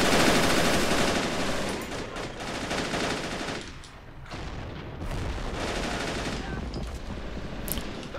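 Sustained machine gun fire rattles in a war strategy video game, dense bursts of rapid shots and booms overlapping continuously with brief lulls between volleys.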